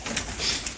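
Pigeons in a pigeon loft give soft, rounded coos in quick succession, close and fairly loud over a faint airy background.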